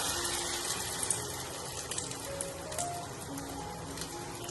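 Liquid is poured into a cooking pan on a gas stove, a soft continuous pattering splash with faint sizzle, low and steady for a few seconds.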